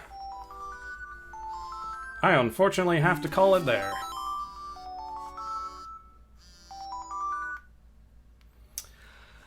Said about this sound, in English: Oh, and that's my alarm.